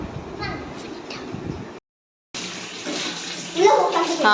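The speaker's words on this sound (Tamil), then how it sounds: "இப்போ ஒரு பைப்பை வச்சு ஃபில் பண்ணிட்டு இருக்கோம் தண்ணி." Water rushes from a pipe into a mini swimming pool, a steady gushing splash that cuts out briefly and then resumes louder, with voices talking over it.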